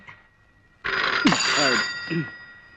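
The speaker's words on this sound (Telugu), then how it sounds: "వెళ్ళి ఆ గదిలో ఫోన్ తీసుకో." A telephone rings with a sustained electronic trill that starts abruptly and continues, while a nearby voice speaks briefly over the ringing.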